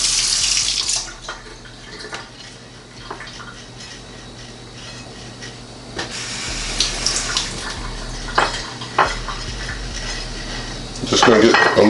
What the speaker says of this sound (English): So just wiping the patty down with some water.